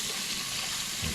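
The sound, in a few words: water running into a bowl for an ice bath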